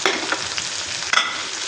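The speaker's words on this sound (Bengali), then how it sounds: "মাছ ভাজা তেলের ভিতরেই পেঁয়াজ দিয়ে দিচ্ছি" Chopped onions sizzle in oil left over from frying tilapia, a close, dense frying crackle. A few sharper stirring scrapes break through the sizzle, with no talking.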